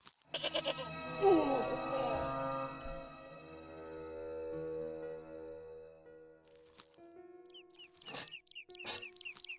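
Goat bleats in Broken Sword: Shadow of the Templars, a tethered goat on a rural Irish farm at Lochmarne. A drawn-out wavering bleat rises early, then a few shorter bleats follow near the end among quieter ambient sounds.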